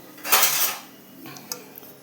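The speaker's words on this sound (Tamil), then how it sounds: "இப்போ இது ஆக்சுவலி காப்பர் பாட்டம் சட்டி, டக்குன்னு வதக்கிடலாம்" Copper-bottom pan handled on the stove before sautéing garlic, chilies and curry leaves for idli podi, a sharp close metallic clank followed by a few lighter taps and scrapes.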